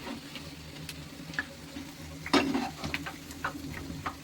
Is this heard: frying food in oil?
yes